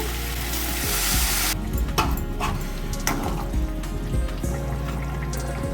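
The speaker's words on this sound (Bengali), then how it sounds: "গরম জল দিয়ে দিচ্ছি।" Hot water poured into a sizzling pot of frying banana-flower paneer mocha ghonto, a loud hissing rush at first that settles into steady bubbling sizzle with a few clanks of stirring.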